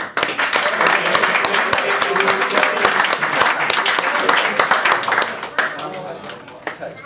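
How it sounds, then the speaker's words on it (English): Sustained applause at a youth football under-15s presentation night, a dense crowd of clapping hands with voices mixed in, tapering slightly toward the end. "Round of applause"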